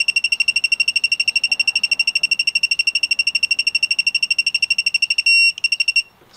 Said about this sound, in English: we should start getting that first visual and audio cue with the green light beeping